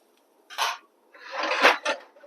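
A lid goes onto a cooking pot while sweet jaggery chalimidi gunta ponganalu cook: one short metallic clank, then a longer rattling clatter and a final sharp clink, close by in a quiet room.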